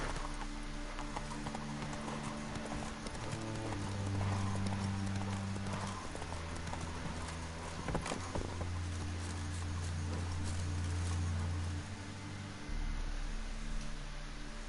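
Horse hooves clip-clop in a steady rhythmic gait while riding in The Witcher 3, with a low game music drone underneath and a continuous outdoor ambience.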